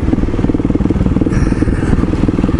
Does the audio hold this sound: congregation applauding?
no